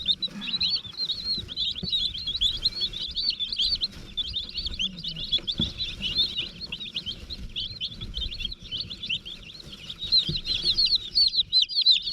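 About thirty meat chicks crowded in a bin, peeping continuously in a bright, rapid chorus of overlapping chirps, close by, with faint scuffling underneath.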